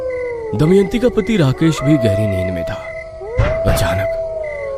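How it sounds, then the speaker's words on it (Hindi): A jackal howls at night near a village beside a forest, giving long wavering howls that rise and fall in two bouts, under a narrator's spoken storytelling. "कभी कभी सियार के हुआ आवाज भी आती"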